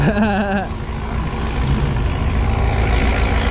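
A deep engine rumbles steadily nearby, its low growl continuous throughout, with a brief tonal whine and faint voices early on.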